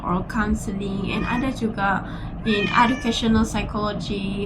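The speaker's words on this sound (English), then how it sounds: "Excuse my cat from making some background noise." A cat meows several times in the background of a room while someone speaks steadily in the foreground, the cries partly mixed under her voice.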